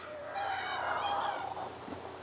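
Chickens in a backyard chicken run cluck and murmur softly and continuously, with a faint drawn-out call in the middle, heard at low level from nearby.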